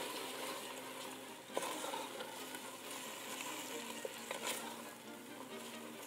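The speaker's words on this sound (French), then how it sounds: "on va venir déglacer nos oignons directement dans le chaudron et on va réduire l'alcool à sec" Onions for French onion soup sizzle in a pot after being deglazed with white wine, a soft even hiss with a couple of small clicks from the pot, no talking.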